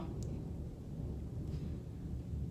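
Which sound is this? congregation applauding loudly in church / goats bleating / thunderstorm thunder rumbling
thunderstorm thunder rumbling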